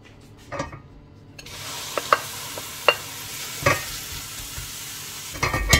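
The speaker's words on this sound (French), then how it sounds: "je vais faire revenir l'oignon avec de l'huile d'olive" Chopped onion sautéing in olive oil in a home kitchen, a soft steady sizzle broken by a few sharp utensil clicks and scrapes against the pan, close and fairly quiet with no talking.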